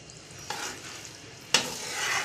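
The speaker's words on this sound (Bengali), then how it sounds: "আর সবগুলো একসঙ্গে নাড়িয়ে নেব।" Chilli mushroom in a cornflour-thickened gravy being stirred in a pan, a broad bubbling sizzle with two sharp scrapes of the spatula, close and moderately loud, no voices.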